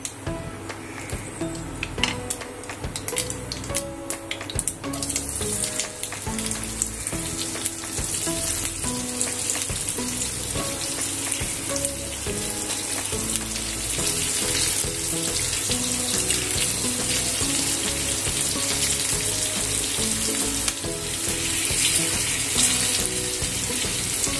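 Okra frying in leftover masala in a pan, a continuous loud sizzle and crackle with occasional stirring, close and steady throughout.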